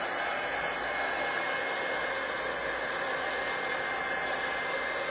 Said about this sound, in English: Now, you can take your heat gun and dry this out a little bit.